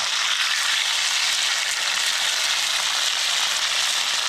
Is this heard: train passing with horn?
no